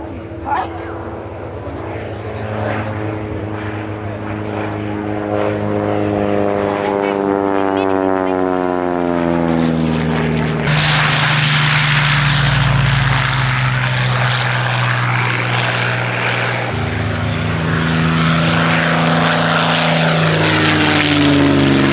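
A Hawker Hurricane propeller fighter at the Woodchurch airshow, its engine drone rising and swelling loud and near as it passes, with an announcer talking over it.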